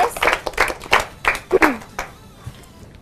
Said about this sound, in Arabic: نسمع له تحية، نسمع له تحية